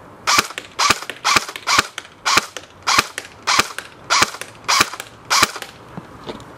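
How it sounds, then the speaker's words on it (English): Ten M4 rifle rounds fired at close range, each shot striking either a metal fence or a styrofoam block, heard as sharp, evenly spaced reports about every half second with no talking. "I'm gonna shoot 10 rounds, and every time you hear those sounds, you can tell if I hit the fence or the styrofoam block"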